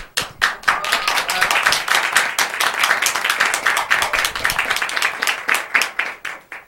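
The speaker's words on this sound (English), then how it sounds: "with all these martial artists, I expected a bigger clap" A variety-show audience, with martial artists among them, applauds in a dense, steady patter of hand claps that runs the whole stretch, fairly close and lively, then thins out at the end.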